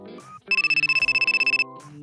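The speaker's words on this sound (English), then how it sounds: "Oh, my phone is ringing." A telephone rings with a rapid electronic trill in steady pulsed bursts, loud and close, after a brief voice and before more talk.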